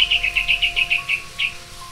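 A small bird gives a rapid series of about ten bright, high chirps in quick rhythm, close and clear against a quiet background, with no voices.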